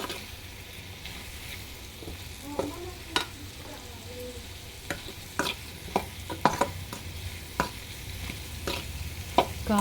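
Bitter gourd fry stirred in a pan just after chili powder goes in, with a steady sizzle under repeated scraping clinks of the spatula that come in irregular bursts, close and moderately loud.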